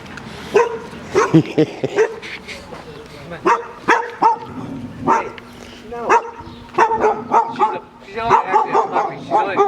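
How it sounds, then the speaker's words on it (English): A neighbor's dog barks repeatedly at close range in sharp, irregular bursts mixed with yips, while people talk nearby throughout. "There's the neighbor with his barking dog."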